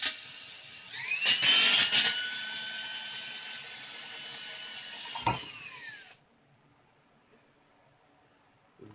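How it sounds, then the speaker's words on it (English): A drill whines steadily at high pitch for about five seconds while boring a hole, then cuts off, leaving near silence with faint handling noise. "So we're going to find that hole and drill."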